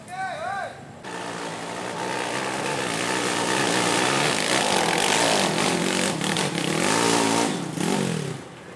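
A Suzuki Shogun 300cc motorcycle climbing a hill in Trowulan, Mojokerto, its engine droning loudly and steadily with rising and falling revs over about eight seconds, up close.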